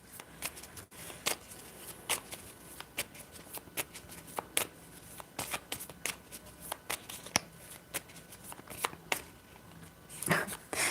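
Playing cards are shuffled repeatedly, giving a run of quick crisp riffles and soft slaps at close range, steady throughout with faint voices in the background.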